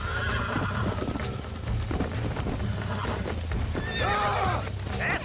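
In Red Dead Redemption, a horse whinnies loudly near the end while its hooves clop steadily in a close trotting rhythm throughout, with no talking.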